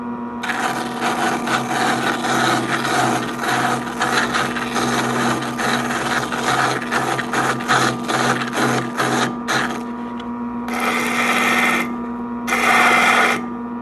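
Belt sander grinding against a sculpting armature plate, a steady loud mechanical whir with rasping friction that runs continuously, then cuts out and restarts in two short bursts near the end.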